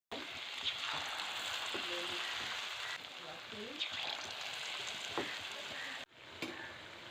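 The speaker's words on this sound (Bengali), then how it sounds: "তো চলো একে একে করে কিন্তু গরম ডুবো তেলে ফুলকপিগুলো ছেড়ে দিই।" Cauliflower pakoras deep-frying in hot oil make a steady, dense crackling sizzle that runs throughout, with a few brief louder pops and a short dip near the end before the frying resumes.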